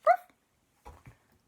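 A dog gives a short whimpering yelp followed by a couple of quieter, brief barks, close by and alone with silence between the sounds.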